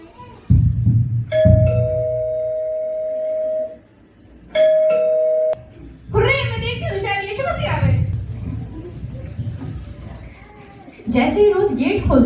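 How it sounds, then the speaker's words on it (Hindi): A doorbell chimes twice, two clear sustained ding-dong tones a couple of seconds apart over low rumbling, followed by people talking. "अचानक से जोशुआ के घर की डोरबेल बजती है"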